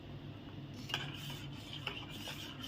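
Soft, quiet scraping and swishing of a utensil moving through a mixture in a pot, with a couple of light clinks.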